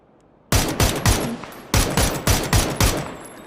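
Bursts of automatic gunfire in a Korean battle-royale-style shooter game, several sharp loud volleys in quick succession with short gaps between them, close and dominant with no talk over it.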